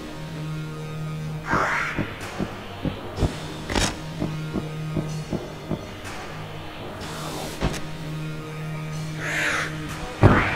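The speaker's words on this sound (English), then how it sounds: "Gatling Gull." Gatling Gull, the boss bird in Enter the Gungeon, gives repeated rhythmic cawing calls over a steady game hum, with loud sharp bursts of gunfire scattered throughout and no talking.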